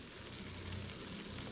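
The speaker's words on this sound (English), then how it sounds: "it is looking good, and you can hear it sizzling" Italian tomato sauce sizzles and fries in a pot, a dense, steady crackling hiss with no break, heard alone and faint.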